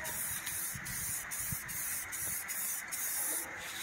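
A steady close hiss of spray coating is dusted onto Ford van headlights during restoration, broken by brief regular pauses between passes.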